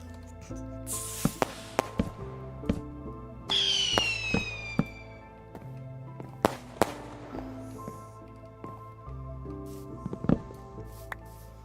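Firework rockets explode in a hardcore survival crafting game: several sharp bangs and crackles, with a rising whistling launch in the middle, all over steady in-game background music and no talking.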